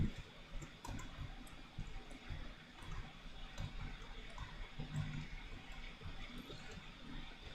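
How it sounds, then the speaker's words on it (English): Typing on a mechanical keyboard, a steady stream of quick, faint clicks and clacks at close range, running unevenly and continuously with no voice over it. "this is what the mechanical keyboard sounds like. Let me type a quick sentence"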